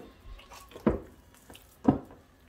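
Water is poured into dough for pan-cooked cheese galettes, two spoonfuls landing in separate soft splashes about a second apart over quiet kitchen background.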